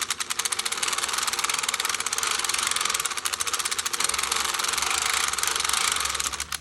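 A hand-cranked circular sock knitting machine clatters steadily with fast, even mechanical ticking close by, and a low hum comes in during the second half; no one speaks.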